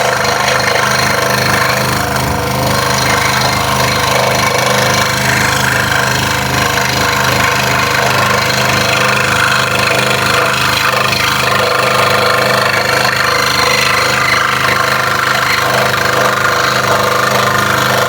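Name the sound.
scroll saw cutting a Halloween workpiece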